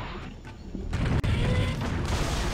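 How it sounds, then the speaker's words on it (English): Cannon launcher firing in the video game Serious Sam, a loud booming blast that opens up about a second in, with a sharp crack, heavy rumbling and mechanical clatter sustained afterward. "Okay, I'll just get them with my cannon launcher."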